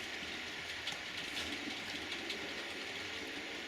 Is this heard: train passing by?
yes